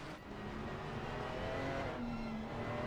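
Race cars in a sim racing game lap Silverstone, their engines a steady, continuous drone with shifting pitch and some faint tyre noise throughout.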